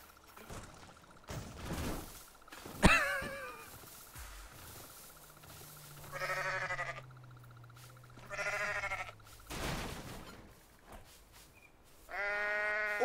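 Goats in the video game Goat Simulator bleat in several separate wavering calls spread across the scene, fairly loud, alongside scattered thumps, a sharp impact and a low droning hum.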